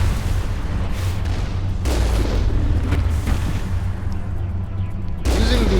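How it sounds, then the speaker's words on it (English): Heavy cannon fire and booming blasts from the Mass Effect video game, with several loud thumping impacts over constant low battle rumble; no speech. "Using the cannon is easiest here, especially against those things."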